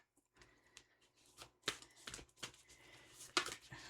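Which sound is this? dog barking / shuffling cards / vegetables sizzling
shuffling cards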